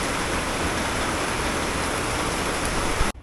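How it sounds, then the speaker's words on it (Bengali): Heavy rain pours down in a dense, steady, loud roar that stays constant before cutting off abruptly near the end. "খুব জোরে জোরে বৃষ্টি পড়ছে"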